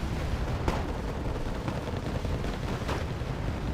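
LVTP amphibious vehicles firing in the video game Wargame Red Dragon, a rumbling barrage of distant booms with a few sharper cracks standing out over steady low battle noise.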